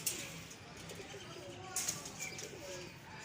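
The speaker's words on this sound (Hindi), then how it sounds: "ये मेरे उड़ने वाले कबूतरों का केज है।" Flying pigeons kept in a cage coo softly, with low, faint warbling calls repeating over quiet background noise and a few brief chirps.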